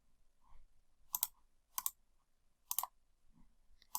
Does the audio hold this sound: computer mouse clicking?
yes